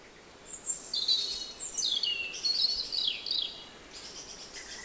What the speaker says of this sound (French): J'ai enregistré des sons d'oiseaux à l'aube, au printemps